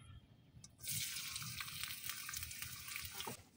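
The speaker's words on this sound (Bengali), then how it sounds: "এখন এই তেলের মধ্যে আমি দিয়ে দেব রসুন কুচি" Chopped garlic sizzles in hot mustard oil over a clay stove, a sudden hiss that starts after a quiet moment and holds steady, close and moderately loud, for a few seconds.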